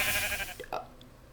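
In the Minecraft Biomancy mod, a sheep struck by a shot of acid gives a single short, close bleat that rises out of a brief burst of game noise and then fades.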